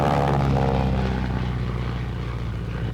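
A Navy torpedo plane fitted as a firefighting aircraft for the Forest Service, its propeller engine roaring loudly and close, then slowly fading slightly as it passes.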